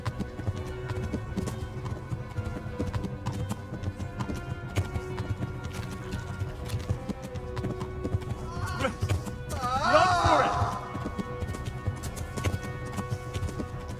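Horse hooves galloping in the video game Kingdom Come: Deliverance, a steady rhythmic clip-clop running throughout, with a neigh or whinny near the end over ambient game sound.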